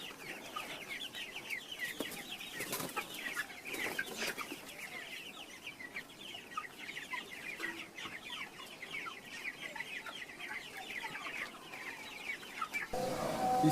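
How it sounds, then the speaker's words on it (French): Flock of about 200 broiler chickens, 28 days old, on a farm, giving a steady dense chorus of clucking and chirping that continues throughout with no talk. "C'est la bande de 200 poulets de chair qui ont 28 jours aujourd'hui."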